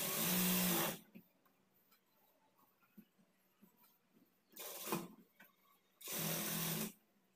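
Sewing machine top-stitching the lining of a princess-cut blouse, three loud, close bursts of rapid needle stitching separated by quiet pauses with faint handling clicks.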